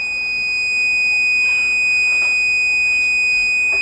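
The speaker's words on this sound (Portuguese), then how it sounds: "no mesmo circuito eu consegui ligar um buzzer e dois motores" A homemade electronics circuit sounds an electronic buzzer alongside two small motors, producing a loud, steady high-pitched electronic tone held throughout with faint mechanical whirring beneath, with no voices.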